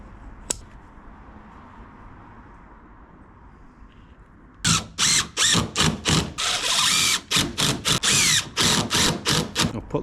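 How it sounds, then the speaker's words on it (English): A power drill drives screws into a steel gutter upstand on a homemade trailer, with a quiet start followed by a rapid series of loud, close whirring bursts and ratcheting clicks. "I'm going to start by screwing the upstand all the way around"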